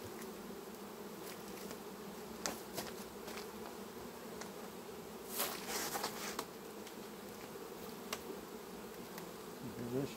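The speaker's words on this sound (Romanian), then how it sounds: "ce de albine este la această colonie" Honey bees at a hive colony during September beekeeping work, a steady, close-up buzzing swarm with a constant drone and occasional louder passes of individual bees.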